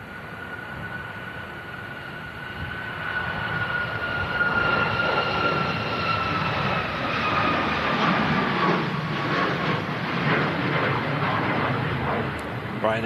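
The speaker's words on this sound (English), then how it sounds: "Ryanair 737 MAX 8200 taking off there" A Ryanair Boeing 737 MAX 8200 takes off in stormy weather, a sustained broad jet roar with whining tones that swells and then holds steady at moderate distance for the whole stretch.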